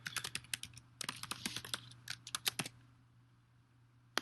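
Username and password typed on a computer keyboard, a close, quiet run of quick key clicks in uneven bursts, a brief pause, then a final single keystroke.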